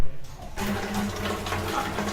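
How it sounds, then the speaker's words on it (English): Smart motion-sensor toilet (INNOCOM II 2021) flushing on its own: a short click, then a rushing surge of water that continues steadily and close by. "and starts flushing and goes back into standby mode."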